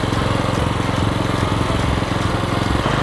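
A small engine-driven paddy-field weeder runs steadily while reversing along a rice paddy bank. Its loud, close engine drones with a fast, even putter and no pauses, with no talking.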